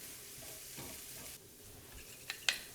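Thinly sliced carrots cook in a pan with a faint, steady sizzle, followed near the end by two sharp utensil clinks against the pan.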